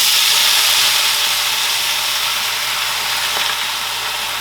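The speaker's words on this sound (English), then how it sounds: "So we're going to put some garlic into our skillet over here that already got some oil going" Garlic fries in hot oil in a skillet, a loud, steady, close sizzle that holds evenly throughout with no voices.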